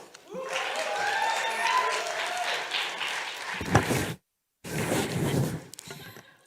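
Theatre audience applauding, a sustained wash of clapping that keeps going for several seconds, broken by a brief silent gap before resuming, with voices heard faintly in the room.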